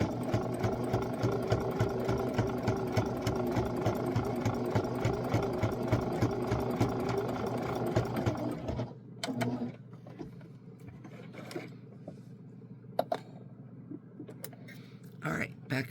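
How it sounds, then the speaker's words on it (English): Sewing all the way around a small scrappy fabric bookmark, a sewing machine hums with a fast, even stitching rhythm for about eight seconds, then falls quiet apart from a few clicks and taps. "And what I've done is I've just sewn all the way around."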